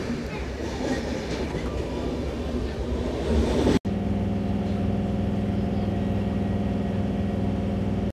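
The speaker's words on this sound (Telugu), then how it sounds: "Chennai central Shalimar weekly express." The Chennai Central–Shalimar weekly express rolls past with a loud rumbling roar and rattling wheels. A sharp break leads into a steadier, droning hum of wagons going by close at hand.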